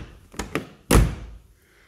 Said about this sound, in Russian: Посмотрите, как двери закрываются.